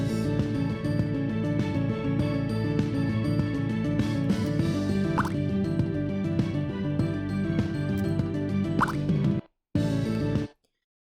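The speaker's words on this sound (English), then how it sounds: "replace it with start sound water drop" Repeated watery drip and plop sounds over a dense, steady musical bed, with a couple of distinct bright drops before the sound cuts out abruptly.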